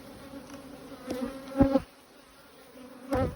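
Honeybees buzz steadily at close range, a droning hum with a few louder swells as individual bees fly past the microphone.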